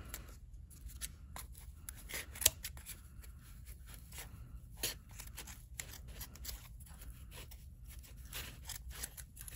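Scissors snip and trim yarn on a handmade Pygmy Puff pompom, a quiet series of soft, irregular cuts with one sharper snip standing out against a low background hum.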